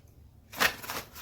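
A deck of cards being shuffled during a card reading, a brief papery riffle bursting in after a moment of quiet, close and moderately loud, then fading into a softer rustle.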